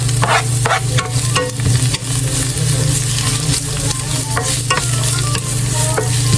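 Chopped onion frying in a pan, a loud, steady sizzle close up with occasional stirring scrapes over a low hum, without speech.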